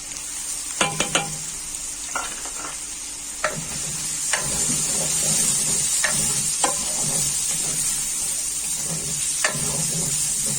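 Onions fry for arvi masala in a pan, a steady sizzling hiss throughout with scattered scraping clicks from a spoon stirring, close and clear with no talking.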